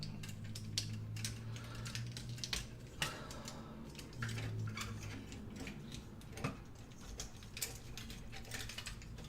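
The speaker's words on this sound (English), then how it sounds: "that lets you fold the whole assembly down" Plastic parts of a Masterpiece G2 Starscream transforming toy click and snap as the assembly folds down, a run of quick, light, close ticks with an irregular rhythm over a faint low hum.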